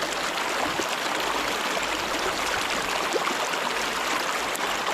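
River water flowing in an even, broadband rush that stays steady and fairly close throughout, with no voices over it.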